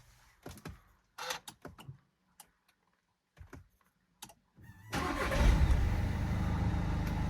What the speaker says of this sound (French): on a juste à démarrer le véhicule